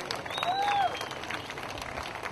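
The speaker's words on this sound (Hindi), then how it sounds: "मिस्टर कदम के लिए जोरदार तालियां प्लीज, हाथ उठाकर ताली बजाओ यार" Audience applause fills a crowded music launch event, a steady wash of clapping heard alongside cheering voices and a brief whistle.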